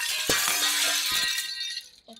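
Glass shatters loudly in a Huggy Wuggy horror video game: a sharp crash followed by a bright, scattering tinkle of falling shards that fades out after about two seconds.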